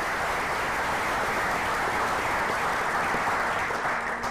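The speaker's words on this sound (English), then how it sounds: "Y'all can at least clap for that" An audience at a Black male development symposium claps for fathers, steady, moderately loud applause from many hands spread evenly across the whole stretch with no talking.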